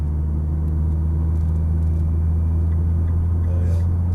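A Nissan GTR laps a race track in Las Vegas, heard as a steady, loud low engine drone and rumble from inside the car, with no talk over it.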